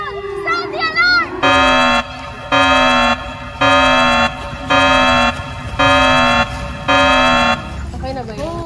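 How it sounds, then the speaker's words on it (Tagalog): An alarm blares close and loud in six evenly spaced pulses, each a harsh buzzing tone sliding downward, with short chirping sounds before and after. "Sound the alarm!"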